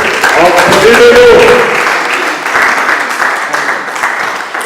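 An audience applauds after a lecture, a dense spread of clapping heard close and loud, with voices and cheering mixed in over the first couple of seconds.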